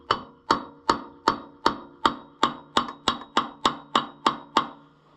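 Sharp metal strikes of a hammer tapping a stuck pulley on an Oliver 1365 tractor: about fourteen bright, ringing blows in a steady rhythm, close and loud with short decays, no voices.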